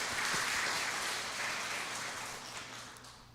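Applause at a school graduation ceremony, a soft, dense patter of many hands clapping that fades slowly toward the end, heard from a distance and fairly faint.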